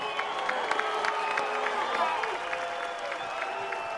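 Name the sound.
crowd applause at boxing press conference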